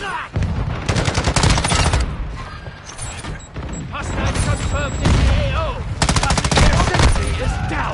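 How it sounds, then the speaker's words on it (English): Dense bursts of rapid video-game gunfire aimed at a sentry gun, loud and close, with sustained automatic volleys broken by brief pauses and speech mixed faintly underneath. "this dude really ran through my fucking bullets while I'm taking out the sentry gun and killed me."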